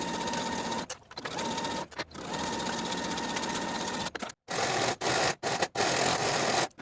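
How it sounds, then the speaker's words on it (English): A sewing machine stitches a linen jacket seam from hem to sleeve at a 3/8 inch seam allowance, running in steady close buzzing bursts broken by several short pauses, with no voices. "Then you're going to stitch from the bottom of the hem to the bottom of the sleeve with a 3/8 inch seam allowance"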